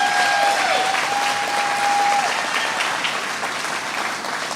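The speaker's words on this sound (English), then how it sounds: "another round of applause for Michelle" A round of applause for Michelle at a sheriff's department retirement ceremony, dense continuous clapping from a large audience, loud and even, tapering slightly near the end with no talking over it.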